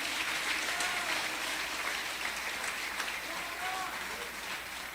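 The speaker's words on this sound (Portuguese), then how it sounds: "Quem pode aplaudir a Jesus aqui?" A church congregation claps, a steady wash of applause heard faintly from a distance with murmuring voices mixed in.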